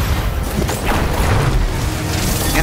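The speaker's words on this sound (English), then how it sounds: "Do you guys enjoy explosions?" Loud, continuous booming and crashing video game explosions in Destiny 2 rumble together with heavy low thuds, dense and chaotic throughout.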